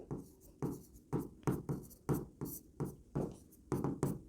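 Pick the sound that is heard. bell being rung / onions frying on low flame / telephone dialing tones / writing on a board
writing on a board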